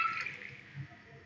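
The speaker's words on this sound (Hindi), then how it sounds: "1 लीटर इसके अंदर पानी डाल रही हूँ" Water poured steadily into a pressure cooker holding chopped pumpkin for halwa, a close, continuous splashing and trickling that holds through the short moment.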